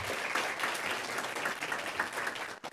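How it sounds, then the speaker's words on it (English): Steady applause from a conference audience honoring students at an environmental policy event, a fairly soft but even wash of many hands clapping that cuts off sharply at the end. "Let's give them a round of applause."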